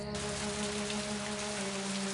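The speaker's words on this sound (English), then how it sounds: "Oh, just a drizzle. It's going to get much worse." Steady rain drizzle in a video game, an Agatha Christie mystery adventure, pattering evenly and continuously with a low hum beneath it and no voices.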